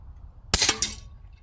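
A single sharp shot from an Anschutz 9015 HP Hunter air rifle cracks loudly and close, followed by a brief ringing tail as the pellet strikes.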